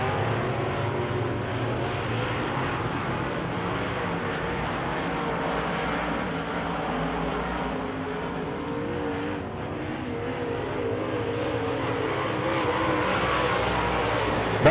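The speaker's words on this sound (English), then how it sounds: "Baldwin feeds number 48 of Gear, hanging on to Rick Delane over in turn number 1 and 2." Wissota modified race cars roar around a dirt oval track during a heat race, a steady, dense wash of engine noise from several cars at a distance.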